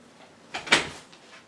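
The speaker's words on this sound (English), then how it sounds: "I'm going to open the door for her." A house door is opened to let a cat out, giving a quick pair of knocks or clunks from the latch and a soft creak-like rustle after them, close and brief in a quiet room.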